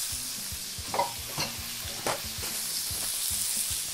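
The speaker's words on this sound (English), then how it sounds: "saute on here for just a couple of minutes to melt some of the fat" Bacon sautés in a hot pan with a little oil, a soft steady sizzle with a few light utensil taps, quiet and without talk.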